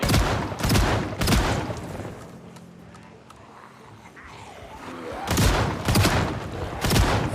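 .44 Magnum gunfire in Project Zomboid comes as loud single shots in quick rhythmic runs, several at the start and again near the end with a quieter lull between, close and sharp.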